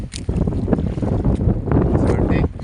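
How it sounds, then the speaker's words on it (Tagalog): Wind buffets the microphone over rough sea near an island, with choppy waves and a boat sloshing, a loud continuous roar with bursts of gusts. "Doon naman si Chohin, unang bungad sa maalon at mahangin na panahon"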